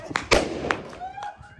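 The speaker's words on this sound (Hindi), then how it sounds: "बड़ा वाला बम फोड़ते हैं" A sharp, loud firecracker blast with a broadband burst, followed by smaller pops and a rising whistle-like tone, with voices nearby.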